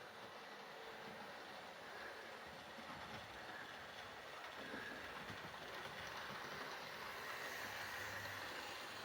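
A model railway locomotive runs with GWR clerestory coaches, a faint continuous whirring rumble with soft rail clatter, steady and unbroken throughout.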